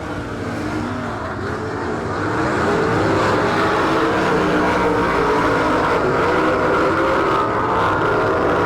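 Stock cars race around a dirt oval track in Saint Clairsville, Ohio, their engines building to a loud, sustained roar as the pack thunders past close by, a continuous snarl with no talk over it.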